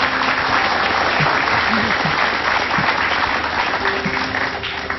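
A studio audience at a television show claps in a steady, loud round of applause, with some voices and cheers mixed into the clapping throughout.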